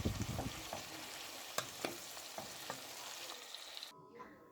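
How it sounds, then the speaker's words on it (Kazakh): Multicolored bell peppers frying and being stirred with soy sauce, seasoning, salt and pepper for a funchoza salad, a steady close sizzle with scattered spatula scrapes and ticks, with no talking. "түрлі түсті болгар бұрышымызды, 1 қасық соясын, приправасын, тұз, бұрышын салып араластырып 1-2 минут қуырамыз"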